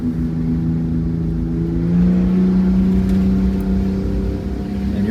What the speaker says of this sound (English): And you're climbing a hill right now, accelerating good.